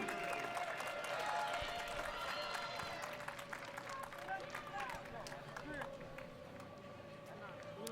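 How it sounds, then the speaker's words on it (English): A crowd at a soccer match gives a round of applause: scattered clapping from the stands rises and slowly fades over several seconds. A commentator speaks over it. "Gets a nice hand from the crowd here as well."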